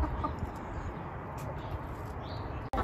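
Chickens cluck steadily as they peck at feed scattered on the ground by a feed station, their soft calls layered over a dense, constant outdoor rustle.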